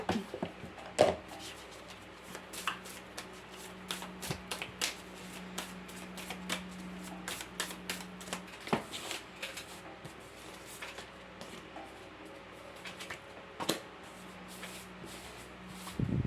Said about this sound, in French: je vais battre les cartes et je vais en sortir 2.